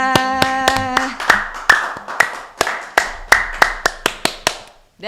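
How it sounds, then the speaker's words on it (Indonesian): An audience at an Indonesian Navy talk show claps in a steady rhythm: sharp, evenly spaced hand claps that begin just after a brief voice and stop abruptly near the end. "Oke, tepuk tangan semuanya."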